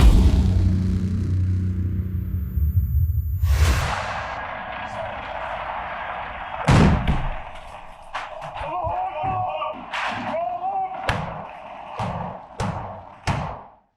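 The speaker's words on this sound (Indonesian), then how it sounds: "Suasana saat itu menegangkan dengan rentetan tembakan" Battle footage of Israeli troops under fire, opening with a heavy low rumble before sharp bursts of gunfire crack out one after another at irregular intervals, loud and close, with a voice talking over part of it.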